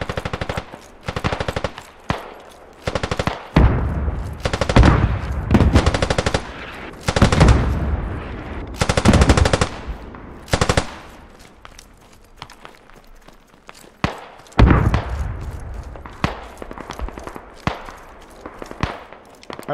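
Automatic weapons fire in the video game Squad comes in repeated loud, close bursts, with clusters of rapid shots separated by short pauses, and footsteps sound between the volleys.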